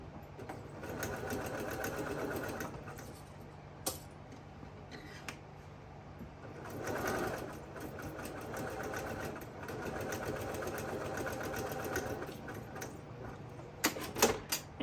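A sewing machine stitches an eighth-inch seam through fabric backed with fusible fleece, a quick rhythmic clatter running in long bursts with short pauses and a few clicks, close and clear, with no talk.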